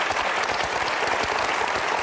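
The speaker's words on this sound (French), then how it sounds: "J'aimerais qu'on applaudisse Nicolas" Studio audience at a live French television show applauding a new father, a dense, loud and continuous wash of clapping that holds steady throughout.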